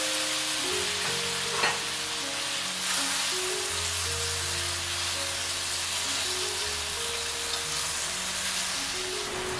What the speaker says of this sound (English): Stir fry it till the juice gets thicker.